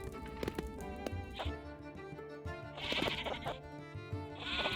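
Sheep in the farming game Clanfolk bleat repeatedly, with several wavering calls overlapping against a soft musical background and occasional footstep-like taps.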